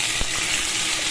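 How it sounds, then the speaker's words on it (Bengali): Potato pieces frying in hot oil for a potato tarkari, giving a steady broadband sizzle with a brief low thump near the start, close and fairly loud with no talk. "আলুটা একটু লাল লাল করে আমি ভাজা করে নিচ্ছি"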